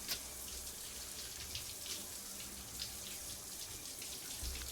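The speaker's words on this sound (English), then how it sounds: "get out of the shower" Shower water running in the video game Snowbreak, a faint continuous hiss of spray with soft patters, steady throughout with no voices.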